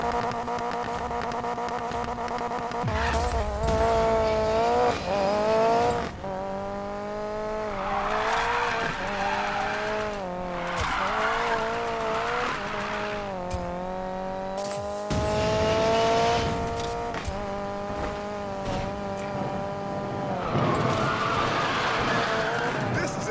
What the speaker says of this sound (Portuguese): E lembre-se, alta velocidade ou curvas fechadas iniciam um drift